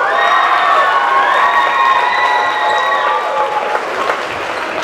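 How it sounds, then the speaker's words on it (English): Spectators at a girls' basketball invitational give the team a sustained round of loud applause mixed with cheering and high-pitched shouts, steady throughout before easing slightly at the close. "Let's give these ladies another round of applause"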